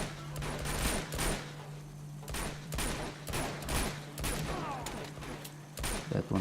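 Gunfire from the video game Uncharted 2 fires in repeated sharp bursts, rapid rounds recurring roughly every second over a low steady hum, close and punchy throughout.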